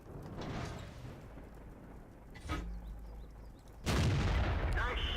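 Tank cannon shots in a World of Tanks battle, two heavy booming reports spaced about a second and a half apart, the second louder and rumbling on, over a quiet background of engine and ambient noise.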